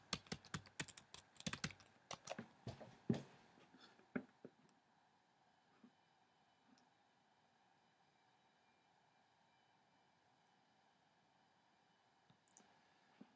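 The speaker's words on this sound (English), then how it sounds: "Okay, I will type in engineering." Quick, close computer keyboard keystrokes tap out a short word in a burst of clicks over about four seconds, then give way to near silence with a few faint isolated clicks.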